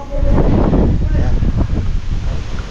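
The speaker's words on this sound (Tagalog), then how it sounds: "Malakas lang po talaga yung hangin." Strong wind blows outdoors at a rural site where wooden posts are being set up, a loud continuous gusty roar that buffets the microphone throughout.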